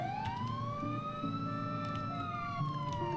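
A Roblox police car siren wails in a steady, looping rise-and-fall, loud and close throughout, layered over a low in-game vehicle hum with no talking.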